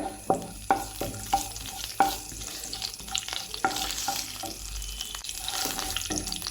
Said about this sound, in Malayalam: ഒരു ടീസ്പൂൺ പെരിഞ്ചീരകം ഇട്ട് കൊടുക്കാം ഇട്ട് കൊടുത്തിട്ട് നന്നായിട്ടൊന്ന് മൂപ്പിച്ചെടുക്കാം